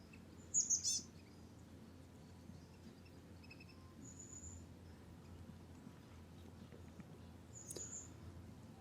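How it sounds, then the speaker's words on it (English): Faint bird chirps ring out in a quiet outdoor setting, a quick burst early on and a couple of thin calls later, with soft background hum. "birds calling,"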